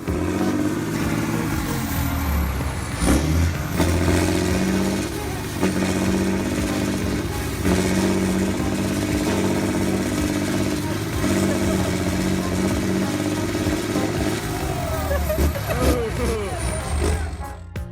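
Heavy John Deere and Fendt tractors roar continuously as they strain in deep mud, engines revving and surging loudly and close throughout, with no voices.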